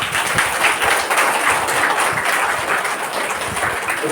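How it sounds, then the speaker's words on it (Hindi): A classroom audience claps together at a spiritual teaching session, a dense, steady patter of many hands that runs without pause at moderate loudness, filling the room with no voices over it. "थोड़ा ताली एक बार बीच में बजाओ"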